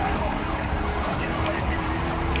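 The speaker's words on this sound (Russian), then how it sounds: "Я уже слышу где-то сирены" Police sirens wail during a chase in the racing game Need for Speed: Rivals, blended with a continuous car engine drone.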